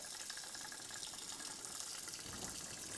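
Water pours steadily to rinse a small alloy sample down into a chemistry lab solution, a continuous close hiss and splash with no breaks.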